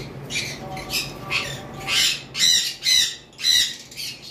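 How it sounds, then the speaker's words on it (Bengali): A pair of half-tame blue conure parrots squawk in a run of about eight harsh, shrill bursts, loud and close, coming in quick succession. "এইখানে একটা পেয়ার রয়েছে ব্লু কোনোর"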